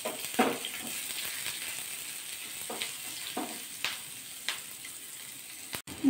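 Cumin, three slit green chillies and half an inch of ginger sizzle steadily in hot oil, with a few brief stirring scrapes and soft pops over a continuous frying hiss.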